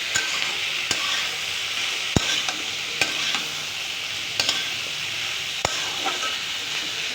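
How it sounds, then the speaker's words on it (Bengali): Steady frying sizzle of large fish heads in a pan of hot oil, a continuous broadband hiss broken by sharp clicks and occasional spoon scrapes as the pieces are stirred, close and alone without voices. "ভালো করে ভেজে নিব"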